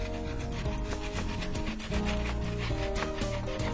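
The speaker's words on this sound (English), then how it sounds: "for these big branches, we're going to use our handsaw" A handsaw cuts through a thick crape myrtle branch in quick, rhythmic back-and-forth rasping strokes, close and continuous, with no talking.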